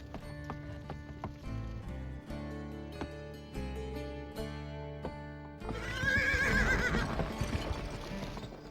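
Horse in the 2005 video game GUN, clip-clopping hoofbeats over background music followed by a loud, drawn-out neigh near the end.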